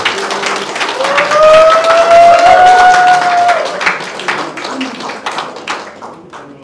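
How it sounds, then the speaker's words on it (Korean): An audience at a Hwaseong citizens' participatory budget assembly applauds a music performance team: loud, close clapping that swells and then thins out, with a brief tonal whine over it and voices talking near the end. "보여주신 남윤주 연주팀에게 다시 한번 큰 박수 부탁드리겠습니다"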